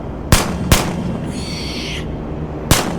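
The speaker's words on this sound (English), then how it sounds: "At the sound of gunfire" Three sharp, loud gunshots ring out irregularly, with a brief high warbling tone between them over a rumbling background.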